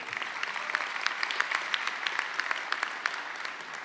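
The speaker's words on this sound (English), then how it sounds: "You can applaud, please." Audience applause at a technical college graduation ceremony, a continuous patter of many hands with sharper individual claps standing out, fairly distant and steady throughout with no talking.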